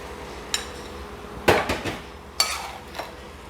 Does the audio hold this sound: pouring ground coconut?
yes